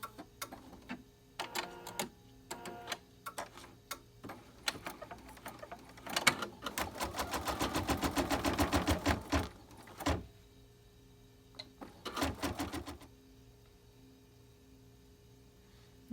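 An embroidery machine stitches in short bursts and a longer run as it tacks quilt batting down inside a hoop, producing rapid mechanical ticking pulses with quiet pauses between sequences.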